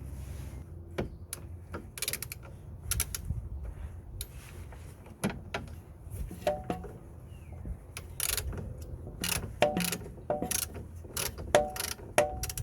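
Ratchet clicks from loosening the brake splash guard nut on a 2005–2012 Vauxhall Zafira B, a run of sharp, irregular clicks and ticks close by, with quiet gaps between bursts.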